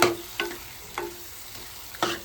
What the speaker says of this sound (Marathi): कोलंबी टाकलेली आहे आपण व्यवस्थित मिक्स करून घेऊया.